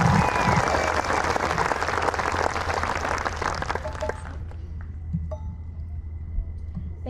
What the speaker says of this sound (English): Let's hear a round of applause for NHS President Avery Weber.